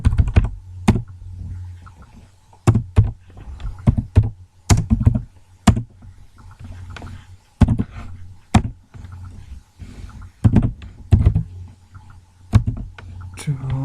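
Keys struck on a computer keyboard while writing a document, sharp separated clacks and heavier thumps in uneven clusters, close and fairly loud, with a voice speaking briefly between strokes.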